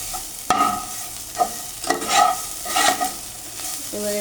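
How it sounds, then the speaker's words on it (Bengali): Radish greens (mulo shak) stir-fried in a pan as the water cooks off, with scraping spatula strokes at irregular intervals over a soft, steady sizzle, close and fairly loud. "তো আমার শাক ভাজা কমপ্লিট।"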